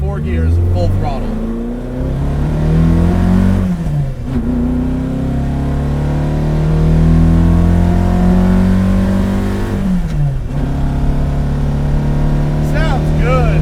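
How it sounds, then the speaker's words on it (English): A modified 1966 Alfa Romeo Giulia GT revs hard at full throttle through four gears, its engine note climbing steadily, then dipping sharply at each shift before rising again, loud and close throughout. "Here's what it sounds like going through 4 gears full throttle."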